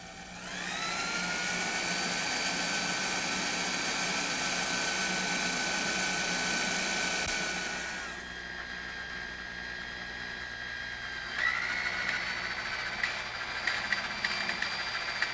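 Power drill boring holes in the lower bearing flange of a Rotorway Exec 162F kit helicopter, guided by square tube bushings; a loud steady high whine runs for several seconds, drops to a lower hum, then revs up again with a few clicks.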